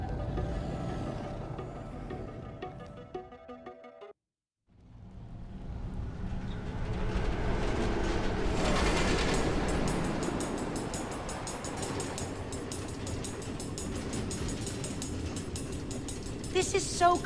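A minecart train on automated tracks rolls through the Nether in Minecraft Story Mode, a steady rumbling clatter that drops out briefly to silence, then swells back louder with dense rattling and continues evenly.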